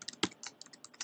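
Keys tapped on a computer keyboard while entering Java code for a LeJOS EV3 program, a quick run of close, crisp clicks with one louder keystroke near the start.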